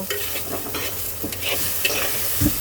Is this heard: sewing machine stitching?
no